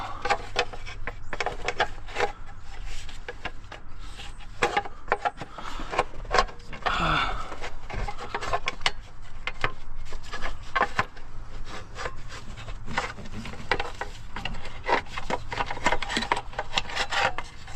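A part being worked loose from the engine of a 2007 Ford F150 4.2L during a rocker arm replacement, giving a steady, close rubbing and scraping of metal with rapid rasping bursts that continue without pause.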